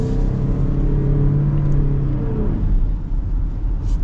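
2025 Mazda CX-50 Hybrid accelerating in power mode, a steady low engine drone inside the cabin with a tone that climbs then settles, smooth and continuous without talking.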